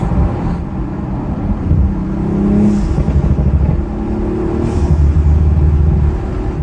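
An Audi RS5 turbocharged engine with a carbon fiber intake revs and pulls hard, rising and falling in loud steady drones with whooshing turbo spool and blow-off bursts between, close and continuous.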